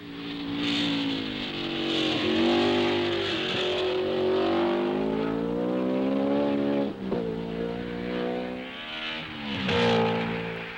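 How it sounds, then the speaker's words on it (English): A Grand Prix race car roaring around the twisting Nürburgring, its engine note rising and falling through gear changes and corners, loud and sustained throughout with brief dips between shifts. "Through the twisting, turning Nürburgring, he gives a magnificent display of Grand Prix driving"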